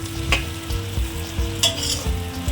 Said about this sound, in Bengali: পেঁয়াজগুলোকে একটু লাল লাল করে ভাজবো